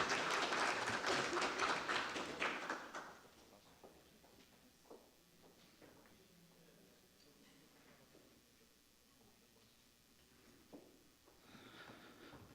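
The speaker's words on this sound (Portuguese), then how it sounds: "eu peço uma salva de palmas para a Giovana" Brief round of applause in a city council chamber during an ordinary session, a burst of clapping lasting about three seconds, then fading into quiet room tone with scattered small knocks and shuffles.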